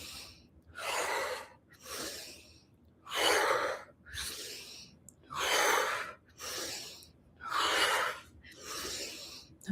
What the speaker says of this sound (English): 5 more breaths.